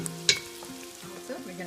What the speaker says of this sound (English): they will release some of their flavors better together with onions while they're frying